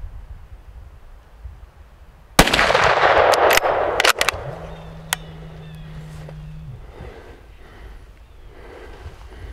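A single sharp, loud rifle shot at a deer during a deer drive, cracking out and echoing away, followed by faint rustling and quiet movement.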